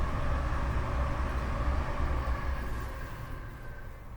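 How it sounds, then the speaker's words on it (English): Train passing nearby: a loud, steady low rumble with a faint higher whine that slowly fades as it moves away, with no voices over it. "I can hear a train coming"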